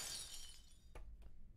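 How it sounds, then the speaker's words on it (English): Glass shatters in the video game Silent Hill 2, a quiet, bright crash with tinkling debris fading out, followed by two faint clinks. "We're probably gonna hear glass breaking while we're in here."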